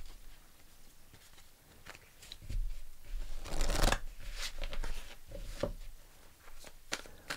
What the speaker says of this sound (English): Let's pull you a card from the Archangel Michael deck.